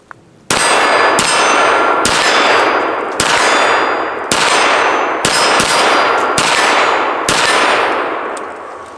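KelTec PMR30 lightweight polymer pistol fires .22 Magnum in a rapid string of about nine sharp, loud cracks, each followed by ringing decay that overlaps the next shot, with no speech.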